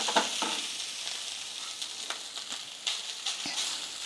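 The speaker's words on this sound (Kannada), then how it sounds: "ಅದಕ್ಕೆ ಇನ್ನೊಂಚೂರು ತುಪ್ಪ ಹಾಕ್ಕೊಂಡು ಸ್ವಲ್ಪ ಕಾಯಿನ ಫ್ರೈ ಮಾಡ್ಕೋಬೇಕು" Grated coconut frying in ghee in a pan, a steady bright sizzle with soft stirring scrapes scattered through, close and moderately quiet, no voices.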